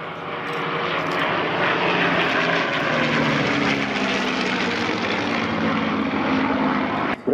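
A loud, steady drone of vintage propeller aircraft engines passing overhead at an airshow, sustained and powerful throughout with no voices.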